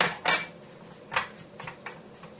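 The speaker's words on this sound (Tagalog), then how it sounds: "i-mix na natin yung butter sa ating crushed na biscuit" Melted unsalted butter stirred into crushed biscuits in a bowl for a no-bake mango cheesecake base, giving a few scraping, clinking strokes of utensil against bowl, close and moderately loud, with no talk.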